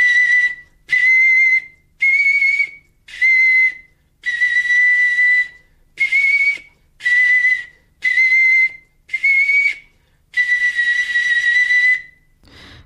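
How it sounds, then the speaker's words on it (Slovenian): A bone replica of the Neanderthal flute plays about ten loud, sustained whistling notes, each separated by a short silent pause, near and alone. "Ta posnetek je nastal s kostno repliko nedolgo za odkritjem tako imenovane neandertalčeve piščali."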